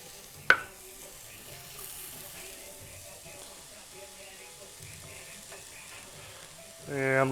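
Celery cooks in a pot for butternut squash soup, a faint, steady sizzle that opens with a sharp knock, and a voice comes in briefly at the end.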